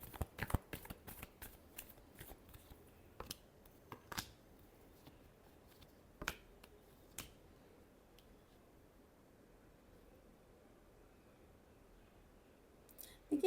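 Tarot cards being shuffled by hand in a series of sharp riffling and flicking bursts, clustered early and again near the end, with quieter handling rustle between.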